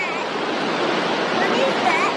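Hawkesbury Nepean River flood water released from a dam rushes past in a loud, steady broadband roar, continuous and close throughout.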